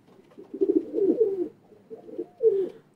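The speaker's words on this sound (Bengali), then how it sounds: "কবুতর," A pigeon coos in a few soft, low, throaty bursts, alone and fairly close, with short pauses between the calls.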